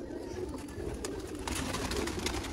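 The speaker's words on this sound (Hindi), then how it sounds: "देखिए ये हैं दोस्तों रिजल्टेड सियालकोटी कबूतर, शेखों वाले, काले मुंह वाले दोस्तों कबूतर" Several black-faced Sialkoti pigeons of the Sheikh line coo softly in a loft, a steady low murmuring bed with a few brighter wing flutters and small rustles throughout.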